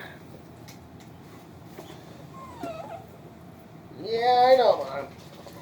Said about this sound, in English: Oh, listen to this whine. Listen to this whiner, puppy.